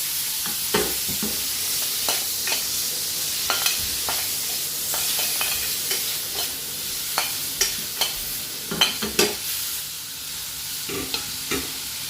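Prawns stir-fry with ginger, chilli, lemon and vegetables in a pan, giving a continuous sizzle broken by repeated sharp scrapes and clacks of stirring at an irregular rhythm, close up and with no voices.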